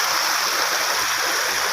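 Floodwater pours from a burst fishpond, a loud, steady broadband rush of fast-flowing water that holds unbroken from start to finish with no voices.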